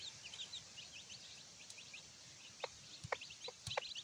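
A native chicken hen calls to her chicks outdoors on a rural farm, faint soft clucks and chirpy peeps scattered over a quiet background, with a few sharper knocks or pecks near the end.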